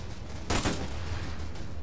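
Gunfire in ArmA 3 during a combined-arms military operation, a sudden loud burst of shots at mid-clip that settles into a steady, dense background rumble of continued firing.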